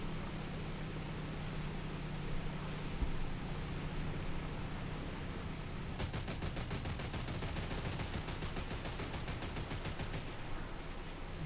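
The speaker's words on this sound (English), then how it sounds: "Let's get some big machine guns." Naval machine guns fire in War Thunder, with dense rapid bursts of rattling gunfire over steady rumbling battle and engine noise, loud and close, starting about midway and running continuously to the end.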